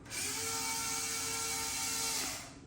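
MofoRC Big Block motor in a Traxxas TRX4M RC crawler spinning the wheels at speed, a steady high-pitched electric whine with a faint tonal hum, holding even for about two seconds before winding down, no voices.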